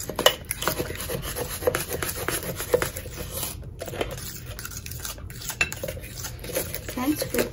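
Utensils scrape and clatter against a bowl as banana bread batter is stirred, a busy, continuous close-up rasping and clinking with a few sharper knocks.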